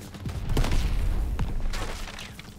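Rapid gunfire aimed at a gas tank in Call of Duty: World War 2, a loud ongoing volley of shots with sharp reports and a low rumble beneath.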